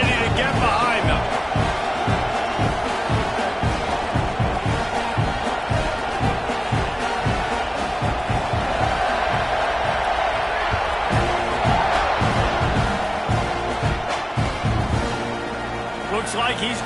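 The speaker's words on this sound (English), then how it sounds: "this crowd now ready to get behind them" Stadium crowd at a college football kickoff, FSU vs Texas A&M, keeps up a dense, steady roar and cheer, with a commentator talking over it throughout.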